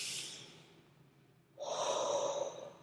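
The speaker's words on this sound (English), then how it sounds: "breath in through your nose and hold it however comfortable, and exhale through your mouth however comfortable" A person breathes in slowly through the nose, pauses, then lets out a longer, louder exhale through the mouth, calm and close, with no talking.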